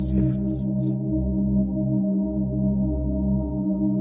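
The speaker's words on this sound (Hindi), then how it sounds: "सिर्फ झींगुरों की आवाज सुनाई दे रही थी।" A few sharp, high cricket chirps in quick succession open over a droning low hum at night, then the chirping stops.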